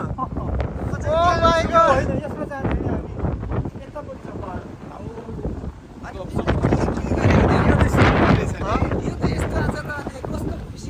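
Strong wind buffeting a microphone on a mountain hiking trail, rumbling gusts that swell and drop across the whole stretch, with voices talking over the noise.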